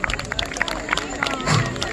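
Audience applause at a dog education talk, a moderate burst of scattered clapping with crowd murmur and voices mixed in.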